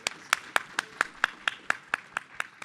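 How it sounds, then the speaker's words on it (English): A single person's hands clap about a dozen times at a steady, fairly quick rhythm during a seminar on public policy and good governance, close and distinct, in a short burst with no talking. "Let's give him a round of applause."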